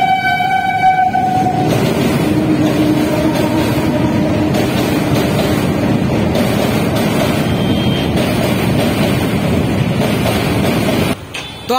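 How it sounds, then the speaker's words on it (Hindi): Train crossing the bridge over the Ganga river at Simaria Ghat, a loud continuous rumble and clatter of wagons throughout, with a long horn blast at the start. "तो आपने देखे कि अभी ट्रेन गई"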